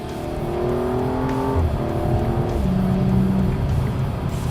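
A 2016 BMW M235i xDrive engine revs hard and climbs in pitch, dropping abruptly at each quick automatic gear change before rising again, loud and close.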